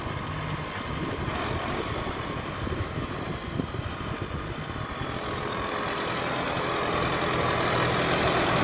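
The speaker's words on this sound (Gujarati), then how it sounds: "આ કેટલા હોશ પાવરનું ટ્રેક્ટર પંચાવન પંચાવન હોર્સ પાવર" A 55 horsepower tractor engine runs with a steady, dense rumble that swells slightly louder toward the end, with no talk over it.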